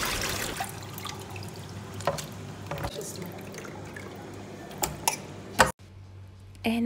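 Water is poured and drips into a sink after a raw chicken is washed with vinegar, with scattered splashes and ticks over a steady background, ending in a sharper splash and a short pause.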